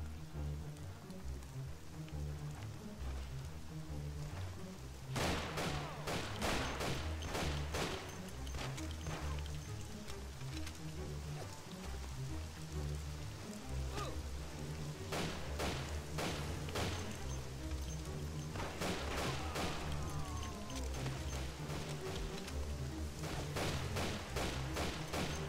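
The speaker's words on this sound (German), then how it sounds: "Wer schießt da?" Gunfire in the video game Mafia, bursts of rapid sharp shots crackling over a steady game background hum, arriving in several clusters at moderate loudness with no voices.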